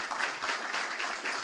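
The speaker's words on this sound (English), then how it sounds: "let's give him a round of applause" An audience applauds a guest from the American Society of Mechanical Engineers at a lecture, a steady wash of clapping filling the short moment at moderate loudness.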